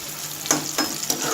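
Onions sizzle steadily in a pan for khichdi as they fry until crispy brown. The hiss is close and continuous, with a few brief stirring scrapes and no voices.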